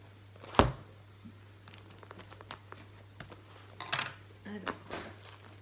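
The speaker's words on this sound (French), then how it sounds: "c'est un peu le bazar pour ouvrir avec le scotch." A cardboard parcel sealed with packing tape is opened: a sharp rip of tape is followed by scattered crinkles, rustles and small tearing noises. The sounds are quiet and close.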